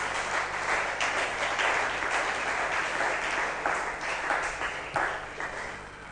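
A church congregation applauds the Lord during a Sunday service, with sustained, dense clapping filling the room for several seconds before easing slightly toward the end.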